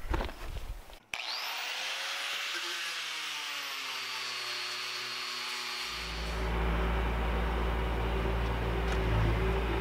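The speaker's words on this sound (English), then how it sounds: "I can quickly sand those out of the board" A power sander fitted with 50-grit paper works a wooden board for tiny-house furniture. A motor whine spins with shifting pitch, then a dense, loud, steady grinding rasp takes over for the last few seconds, close by and with no voices.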